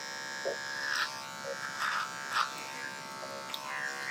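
Electric hair clippers buzz in short bursts during a clipper-over-comb taper haircut, the hum faint and steady with brief louder passes as the blade works through hair; no one speaks.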